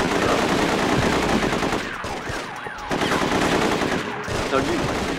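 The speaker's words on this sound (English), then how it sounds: "These guys are shooting at me." Dense automatic and single gunfire in the PS2 game The Getaway during a street disturbance in Soho, loud and continuous bursts with a brief lull midway before the shooting resumes.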